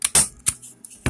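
Staple gun driven into a wooden Christmas ornament to fasten twine, sharp snapping clacks near and loud, a few spaced hits with quieter handling between.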